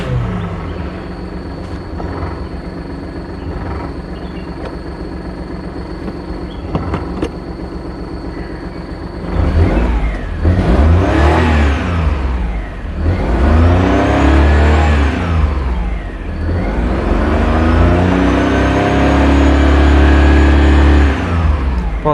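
Maruti 800 car engine idling quietly, then starting to rev in three strong, rising-and-falling bursts that climb and sweep back down, loud and close.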